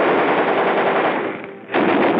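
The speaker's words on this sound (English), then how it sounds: "Check and test fire all weapons." Marines test fire a machine gun in one sustained, very loud close burst of rapid rattling shots, briefly easing off before firing again, with no voices.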